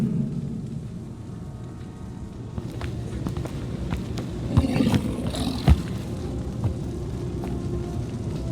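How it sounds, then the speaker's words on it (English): Rain and rolling thunder from a storm in the video game Guardians of the Galaxy: a constant wash of rainfall with low rumbles and a few sharp cracks midway, fairly quiet and without speech. "The storms of Seknarf grow ravenous."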